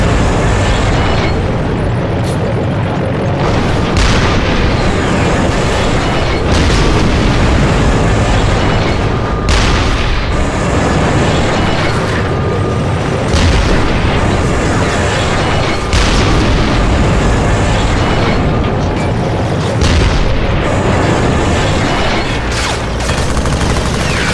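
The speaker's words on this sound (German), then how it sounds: "Hier beispielsweise seid ihr im verschneiten Land mit einem Panzer unterwegs" Loud, continuous battle din from the Resistance: Fall of Man video game while driving a tank through snowy country, with repeated heavy booms and explosions over a dense rumbling background.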